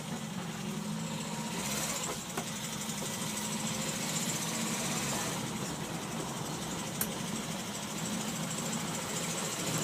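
An Opel Kadett B with an OHV engine runs while driving and makes an unusual noise, heard as a steady, dense engine drone with road rush that stays even throughout, with no talking.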